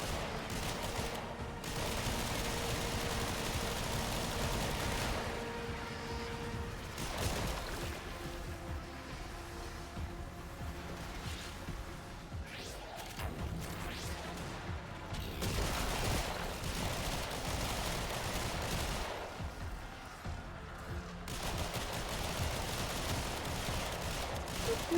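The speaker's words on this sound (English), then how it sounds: "So just quietly shoot down the corridors where everybody's coming." Continuous gunfire and combat noise from the video game Warframe, during a solo Archon Hunt on Elite Deep Archimedea, with bursts of rapid shots over a dense, steady din of game effects, loud throughout.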